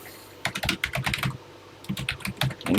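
Close, steady typing on a TI-99/4A home computer keyboard, two bursts of rapid clicking keystrokes separated by a brief pause, with no voices.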